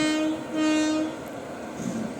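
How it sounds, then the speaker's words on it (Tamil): A Tiruchirappalli to Karaikudi passenger train stands at a station, its engine droning loudly with a steady horn-like tonal hum and a rumbling background throughout. "இந்த ட்ரெயின் தான் திருச்சிராப்பள்ளேருந்து காரைக்குடி போகிற பேசஞ்சர் ட்ரெயின்"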